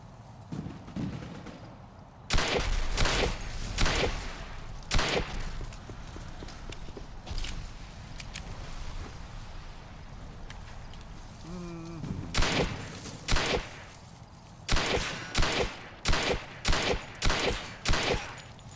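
Pistol shots ring out in the Xbox 360 shooter Turning Point: Fall of Liberty, a few isolated cracks early and then a quick run of sharp, evenly spaced reports near the end over a low game ambience.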